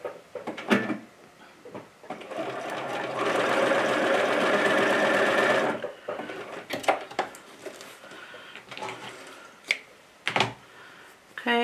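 A sewing machine runs a default straight stitch through denim jeans in one steady burst of about four seconds, framed by clicks and handling knocks before and after.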